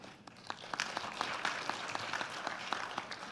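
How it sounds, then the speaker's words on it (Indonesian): Audience applause at an Indonesian forum on the Freeport smelter in Gresik: steady, moderately distant clapping from a crowd, with dense overlapping claps and a few sharper hits, continuing evenly throughout. "Saya ingin dengar tepuk tangan itu"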